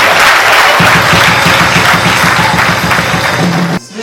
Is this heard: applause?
yes